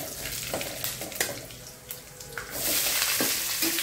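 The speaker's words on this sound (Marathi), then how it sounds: "खडे मसाले आपण तेलात टाकून घेऊ" Whole spices crackle and sizzle in hot oil in a pan for a chole curry, a steady close frying hiss with occasional stirring clinks, growing louder toward the end, with no talking.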